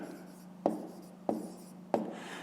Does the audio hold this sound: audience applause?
no